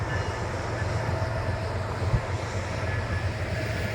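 Coal train locomotives roll past in Wyoming's Powder River Basin, a steady, loud low rumble with constant broadband noise and one brief thump partway through.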